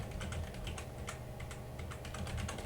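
Rapid, repeated clicks tap out in an uneven rhythm, close and fairly quiet, as a computer mouse or keys are pressed over and over during a Moviestarplanet game session.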